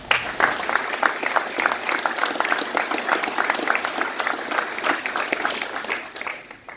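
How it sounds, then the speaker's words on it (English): An audience applauds in a steady, dense wash of clapping that runs nearly the whole time at close, even loudness before tapering off at the end. "So they deserve a round of applause."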